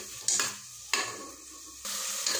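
Tomatoes and peas being stirred as they fry in a pan, with a steady sizzle and three distinct stirring scrapes spaced across the clip, close and fairly loud, no talking.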